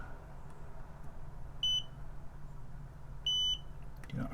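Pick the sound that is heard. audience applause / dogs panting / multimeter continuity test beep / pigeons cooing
multimeter continuity test beep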